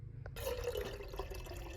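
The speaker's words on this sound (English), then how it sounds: "Fill up my water bottle because we're gonna be walking around." Tap water runs into a water bottle at a sink, a steady close pour that begins after a brief quiet moment and continues with a slight rising fill.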